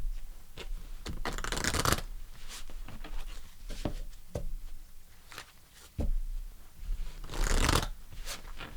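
Tarot fortune cards being shuffled by hand, a close run of riffling and soft flapping with louder bursts near the start and end, scattered taps and rustles between them, and no talking.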